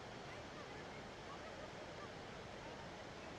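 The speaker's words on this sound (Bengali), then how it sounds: "ওই যে দেখেন ঝর্ণা, ঝর্ণার শব্দ দেখতেই পাচ্ছেন, অনেক জোরে ঝর্ণার শব্দ।" A loud waterfall viewed from a hanging bridge gives off a steady, dense roar of rushing water that fills the whole clip without pause.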